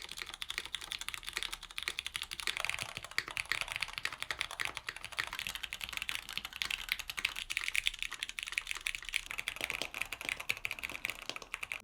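Steady, fast typing on a mechanical keyboard fitted with lubed MX Purple tactile switches, a dense stream of soft clacky keystrokes, close and alone.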